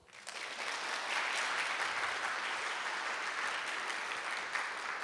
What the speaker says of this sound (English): So please give your warm welcome, warm applause, ladies and gentlemen.